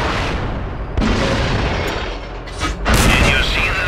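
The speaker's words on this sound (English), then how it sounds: "Did you see the explosion?" Tank cannon fire and explosions in World of Tanks during a company battle, with heavy booming blasts landing near one second and again near three seconds amid a rumbling battle backdrop.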